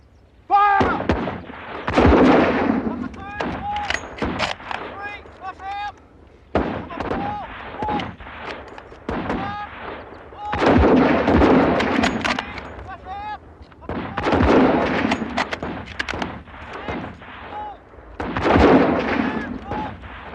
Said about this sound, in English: At your targets! 10 rounds! Fire!